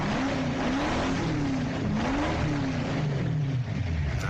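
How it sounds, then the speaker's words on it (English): The 6-litre engine of the new Wildcat sports car, designed by Al Melling of Rochdale, roars loud and close in a sustained run, its pitch wavering up and down as it revs, with no talk over it. "that's a 6-litre engine in the new Wildcat sports car"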